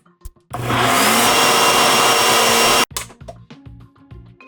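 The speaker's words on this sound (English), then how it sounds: "We are just going to give this a whiz in the blender and we'll be ready to freeze." Blender whizzes a strawberry keto sorbet base, a loud, steady motor roar of a little over two seconds that cuts off abruptly, followed by light clattering and handling sounds.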